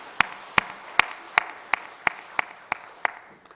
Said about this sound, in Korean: 우리 힘찬 박수 한번 드리겠습니다